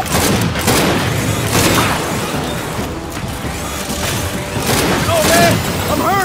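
Gunfire in Gears of War 5 rattles in dense, loud bursts of shots and booms across the whole stretch, with in-game voices speaking over the combat.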